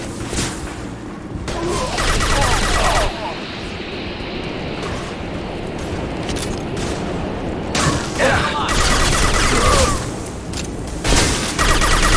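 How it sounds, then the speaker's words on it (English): Gunfire from the Mass Effect 2 video game erupts in heavy bursts and booming blasts during a close-quarters firefight, loud and sustained across the scene, with a character's voice shouting over the shooting. "Stop shooting me!"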